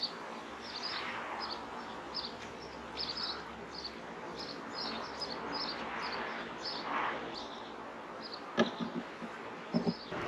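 Honey bees hum softly around hive frames outdoors, a faint, steady buzzing with scattered light chirps and a couple of brief knocks near the end.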